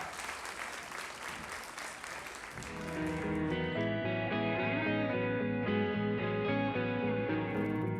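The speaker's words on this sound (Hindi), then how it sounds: "उनके लिए जोरदार तालियां।" Applause from an audience at a college performance, a dense clapping wash for about three seconds that gives way to loud music starting up and carrying on.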